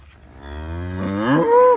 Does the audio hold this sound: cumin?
no